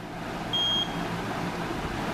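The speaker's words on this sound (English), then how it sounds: "on 1000 the buzzer beeps" A single short, high-pitched electronic beep from an Arduino buzzer sounds once over a faint background hum.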